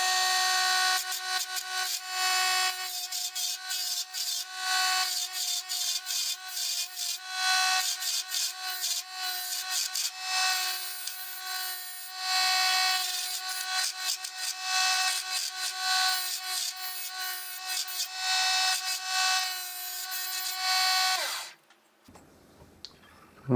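A mini lathe turns a short finned barrel for a toy submachine gun, cut with a small chisel, giving a steady, loud scraping and whirring drone with pulsing texture for about twenty seconds before it cuts off abruptly.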